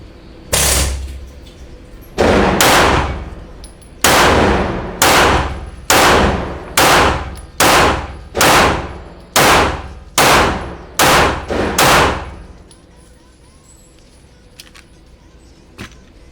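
A Smith & Wesson firearm at an outdoor shooting range fires about thirteen loud, close shots with sharp cracks, at first spaced about two seconds apart and then quicker, with ringing echoes between shots before it goes quiet.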